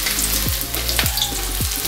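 Garlic and onion fry in a pan with a steady, dense sizzle throughout, plus a few soft clinks or stirring taps, and nobody speaks.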